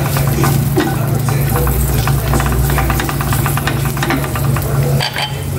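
Garlic sautés in a hot pan before kangkong is added, giving a loud, continuous frying hiss with small crackles and occasional stirring scrapes throughout.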